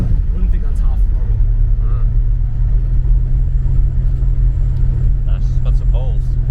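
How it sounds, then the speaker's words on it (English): A Holden VN Commodore engine revs at half throttle, giving a loud, steady deep rumble that runs throughout beneath occasional speech. "Wouldn't think that's half throttle."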